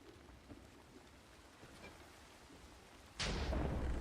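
Minecraft rain patters steadily at a low level, then a loud, broad thunderclap breaks in near the end and rumbles on to the close.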